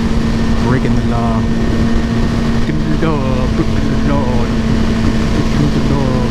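A Yamaha R6 sport motorcycle cruising on a highway gives a loud, steady roar of engine and rushing wind throughout, with a voice briefly audible over the noise.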